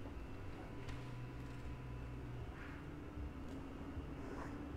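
Heavy trucks rumble past on a Brooklyn street outside a hair salon, a steady low drone of traffic filling the background throughout, with no voices heard.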